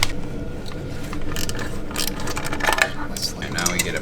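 Ratchet with a 6mm hex bit loosening the V-band clamp on the turbo downpipe of a Mk7 Golf with an IS38 turbo, giving close, busy metallic clicking and clattering through the clip, with shop noise in the background.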